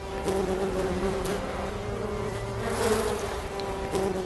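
Dense, continuous buzzing of many honey bees all around, a steady droning hum with individual insects passing close by.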